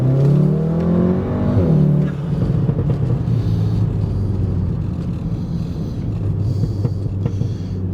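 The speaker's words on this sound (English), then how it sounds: "listen to how the exhaust sounds on the inside of the car. I'm going to do some high rev pulls." Cabin view of a VW Golf R MK 7.5 with muffler-delete exhaust pulled to high revs, a loud droning engine and exhaust roar that climbs, drops sharply around two seconds, then settles into a steady rumbling pull.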